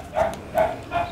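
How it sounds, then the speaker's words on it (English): A dog barks three times in an evenly spaced series, the barks sharp and moderately close against a quiet room background. "Sorry about this dog, everyone, it's a nice dog."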